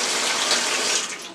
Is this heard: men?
no